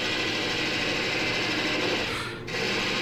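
A roughing gouge cuts into the end grain of an apple log spinning on a wood lathe, giving a continuous close rasping, rushing sound that dips briefly near the end.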